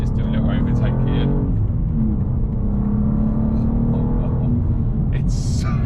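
A BMW M2 G87 engine pulls hard during an overtake on the road, a loud low rumble and rising growl under steady in-car talk, with a brief whoosh near the end.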